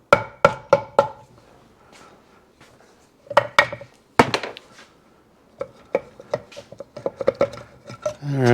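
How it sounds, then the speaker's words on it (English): A tool scrapes gasket sealer off a Yamaha AT2 125 Enduro engine part. Sharp scraping and clicking strokes come in irregular clusters, close and fairly crisp, with pauses between them. "Now I gotta try to scrape all that off."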